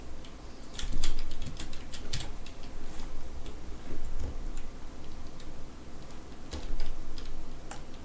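Computer keyboard keys clatter in quick, irregular bursts of sharp clicks, close and steady throughout over a low background hum, with no talking.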